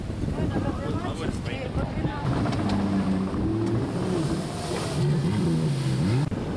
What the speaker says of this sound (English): A lot of the traffic on the river is craft taking tourists on a 6 bridges tour.